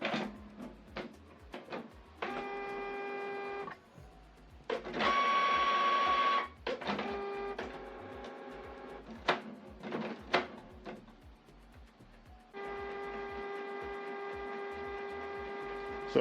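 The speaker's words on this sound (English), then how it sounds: "So you just need to wait for the printer to be ready." A Canon PIXMA MG3650 printer copying a document: several bursts of steady mechanical whirring and motor drone, broken by short clicks and clunks as paper is drawn in, heard close and alone with no talk.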